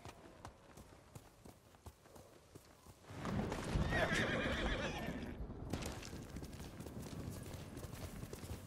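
A horse in the video game Ghost of Tsushima clip-clops along, then louder hoofbeats and a whinny burst in after about three seconds, with the trotting carrying on steadily under a quiet game soundscape.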